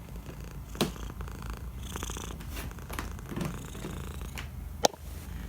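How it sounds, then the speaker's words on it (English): A cat purrs steadily and closely right into the microphone, a continuous low rumbling hum with a couple of small bumps and no talking. "That's Janet's cat Fluffy doing a mic check for us."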